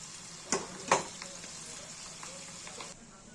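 Tempering (tadka) for dhokla sizzles steadily in hot oil, a close, even frying hiss with two sharp clinks near the start. The sizzle drops off abruptly near the end.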